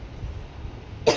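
A single short cough from someone unwell breaks a quiet indoor room near the end, close and fairly sharp.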